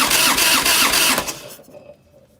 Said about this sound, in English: Rotate the engine 10 times.